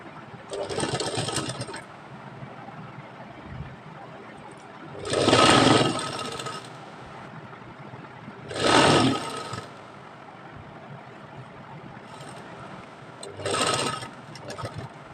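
A sewing machine stitches a children's co-ord set for ages 10 to 12, running in four short whirring bursts separated by quiet pauses. The machine sounds close and fairly loud, with no talking.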